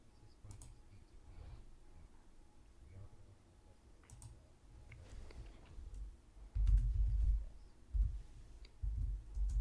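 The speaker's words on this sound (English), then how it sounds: "I think my typing is really loud." Soft, rapid clicking of keys at a steady pace, with low rumbling thumps growing louder toward the end.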